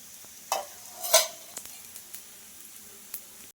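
Kova bobbatlu cook in ghee on a pan with a soft, low frying hiss. A couple of sharper scraping spatula strokes stand out, followed by scattered light clicks and taps, all close and quiet with no talk.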